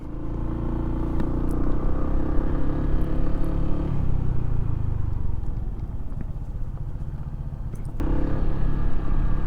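Honda ADV 150 scooter riding along a road, a steady loud engine drone with wind rumble, pitch shifting as speed changes and rising again near the end, no talking.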